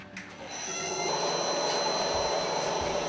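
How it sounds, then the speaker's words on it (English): A stone grinding machine working a snowboard base in a ski tuning shop spins up after a brief click, settling into a steady, fairly loud whirring grind with a high whine on top. "Right, stone grinding time."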